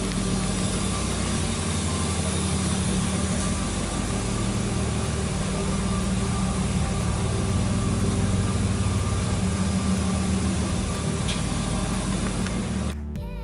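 A car idles steadily ahead of a gentle drive to the shop for new brake pads, rotors and calipers, its engine a constant, fairly loud low rumble and hum that carries on evenly without a break until it stops abruptly near the end.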